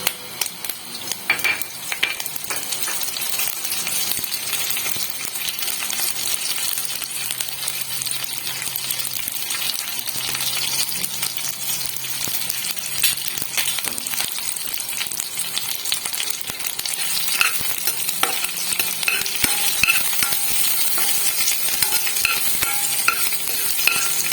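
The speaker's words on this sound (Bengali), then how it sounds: "তেলটা গরম হয়ে গেলে আমি এবার কারি পাতা, সর্ষে এবং কাঁচা লঙ্কা অ্যাড করব" Curry leaves, mustard seeds and green chillies fry in hot white oil in a kadai for dhokla tempering, giving a steady close sizzle and crackle with occasional stirring and utensil clinks throughout.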